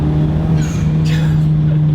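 A modified Honda Civic Type R with a full exhaust drones steadily from inside the cabin, loud and constant. Two brief airy turbo whooshes rise over the engine tone.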